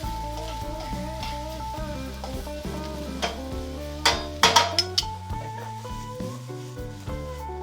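Bok choy and sweet mini peppers sizzle and are stirred in a pan, with a scraping utensil clatter and crackling bursts midway, all under steady background music.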